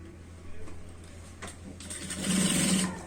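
An electric sewing machine stitches a pant waistband in one short, fast whirring burst near the end, preceded by quiet handling sounds.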